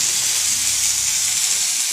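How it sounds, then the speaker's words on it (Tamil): Pirandai (veldt grape) sautéing in a pan gives off a steady, even sizzle of frying with a soft hiss of steam, close and continuous with no voices over it. "இது கொஞ்சம் நேரம் வதக்கிட்டோம்."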